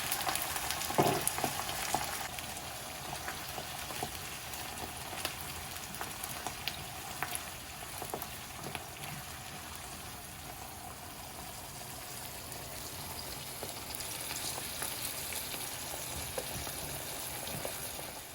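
Cranberries simmering in wine in a pan for a warm kale salad give a steady, close frying hiss with soft bubbling and a few stirring clicks, continuous throughout with no talking.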